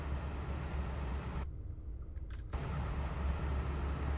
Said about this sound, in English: You get all the sound of the engine